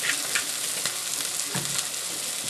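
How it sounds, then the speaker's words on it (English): Steady, bright sizzling of duck frying in a hot pan, continuous and close with no talking. "This is the right sizzle sound you want to hear"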